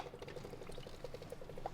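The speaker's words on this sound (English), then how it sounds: "we're also going to top it off with some seltzer water on top" Seltzer water pours onto a rum and coconut cocktail in a gold-rimmed glass, a short, faint, steady fizzing trickle with soft bubbling pops.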